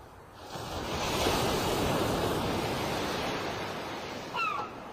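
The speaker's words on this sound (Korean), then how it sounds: "붉게 물든 조수는 거품을 부걱부걱 토하며 바람결조차 철썩철썩 해안을 부딪힌다" Sea surf washing against a shoreline in a steady, broad roar with wind noise, fairly loud and continuous, swelling slightly near the end; no voices.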